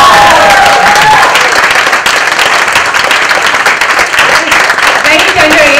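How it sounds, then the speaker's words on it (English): A large audience at a book launch event bursts into loud, continuous applause with scattered cheers, dense clapping filling the room throughout, with voices mixed in. "can we have one huge round of applause for Tanveer?"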